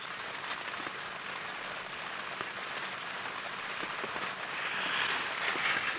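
Rain falls steadily during an early-morning safari drive, a dense hiss of drops on surfaces that swells slightly toward the end, heard alone without talk.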